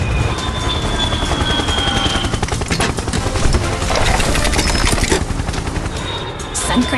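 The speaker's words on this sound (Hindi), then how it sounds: "हवा में लाल हेलीकॉप्टर गूंज" A red helicopter in an animated story gives off a loud, steady, rapid rotor chop throughout, with a faint voice under it.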